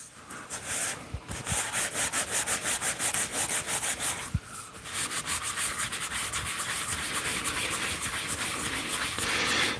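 Sandpaper rubbed over a wooden bowling pin on a woodturning piece, a steady rasping scrub in quick repeated strokes, close and continuous with no voices.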